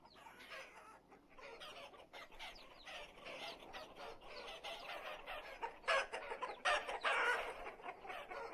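A rooster crows and clucks amid other fowl in the farming game Vintage Story, with repeated calls rising to a louder crowing burst near the end over a quiet background.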